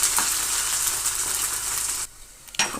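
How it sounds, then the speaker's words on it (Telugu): Ginger garlic paste frying with onions in a pan, a steady broadband sizzle that cuts off abruptly near the end, then a brief stir and a returning hiss. "ఇప్పుడు ఇందులో కొంచెం అల్లం వెల్లుల్లి పేస్ట్ వేసుకొని పచ్చి స్మెల్ పోయేంత వరకు బాగా ఒక 2 నిమిషాలు ఫ్రై చేసేసుకున్నాము"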